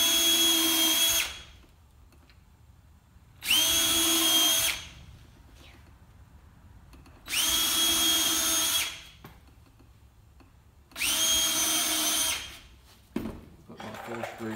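A power drill drives pilot holes and a countersink into a wooden box in four separate bursts of whining motor, each a second or two long with quiet pauses between them, heard up close.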